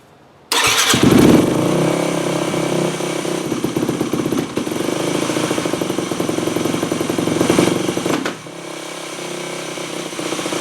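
A Yamaha WR250F dirt bike engine with a carburetor being tuned starts abruptly and runs at a steady fast idle, loud and close, with a slight rise before dropping to a lower idle.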